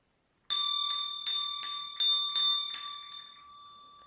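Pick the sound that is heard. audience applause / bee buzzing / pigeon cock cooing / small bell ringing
small bell ringing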